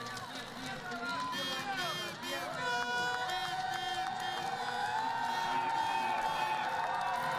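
A Russian crowd cheering and whooping at a women's 12 km sitting cross-country skiing race at the Sochi 2014 Paralympic Winter Games, a steady roar of voices and calls that swells, heard under a commentator talking.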